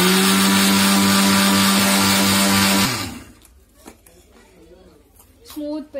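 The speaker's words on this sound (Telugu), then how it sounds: "ఇప్పుడు మిక్స్ చేసుకోవాలి గ్రైండర్" A mixer grinder grinding dal and sugar for sunnundalu whines loudly and steadily for about three seconds, then stops, and someone speaks afterward.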